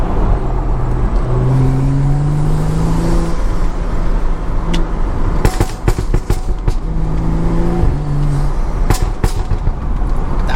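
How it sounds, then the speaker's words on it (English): A BMW F30 335i with a modified loud exhaust, driven on a road: a steady engine drone with rising revs, broken by bursts of sharp crackling pops and bangs near the middle and end. "Yo, the pops sound good today, you know?"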